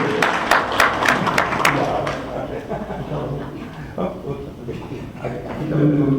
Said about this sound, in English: So give them a round of applause for being out here on the night.